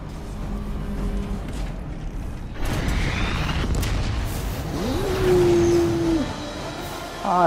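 Deep booming blasts of cannon fire in Destiny 2, with rumbling explosions and mechanical noise, loud and layered over a busy soundscape.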